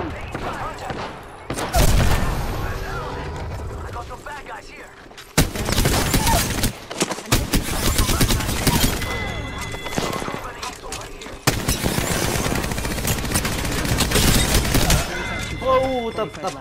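Dense video game gunfire crackles in rapid bursts and sustained automatic fire, loud and close, broken by short pauses and booms, with game voice callouts mixed in.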